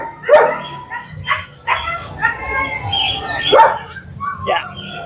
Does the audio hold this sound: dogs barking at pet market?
yes